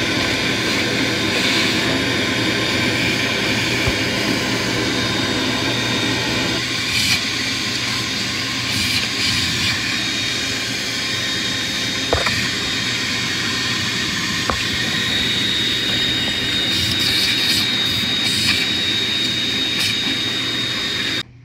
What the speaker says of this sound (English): I'm going to use the vacuum.